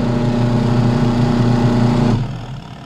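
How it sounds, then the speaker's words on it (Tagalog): A washing machine motor hums in a steady pulsing drone before cutting off near the end, leaving a quieter fading tail. "Umaandar naman yung motor niya"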